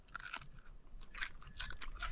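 Someone bites into a crunchy cooked trout tail, giving several sharp, close crunches and chewing sounds in quick bursts, quiet and with no talking.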